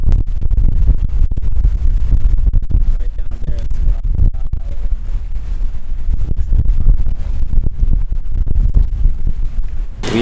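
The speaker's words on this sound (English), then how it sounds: "It's windy." Steady wind at a beach on Boracay buffets the microphone in low rumbling gusts, with voices talking faintly underneath throughout.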